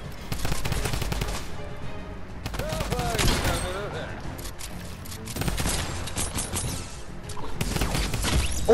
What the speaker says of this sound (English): I'm missing all of the shots.